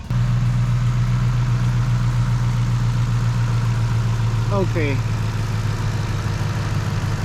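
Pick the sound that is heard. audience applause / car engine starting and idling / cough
car engine starting and idling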